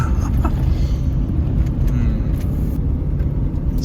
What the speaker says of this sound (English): We are driving down a dirt road for the remaining minutes of the drive.